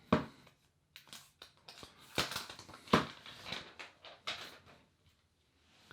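Plastic film peeled off a Samsung Galaxy A20e phone gives a series of close crinkles and sharp crackles in uneven bursts, with quiet gaps between them and nobody speaking.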